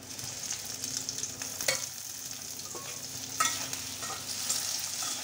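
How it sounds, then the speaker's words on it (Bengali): Chopped tomato sizzles in a pan with onion, a soft steady frying hiss broken by a few scraping stirs, close but fairly quiet, no talking. "এবার একটু ভেজে নেব। দিয়ে দেব কুচি করা টমেটো।"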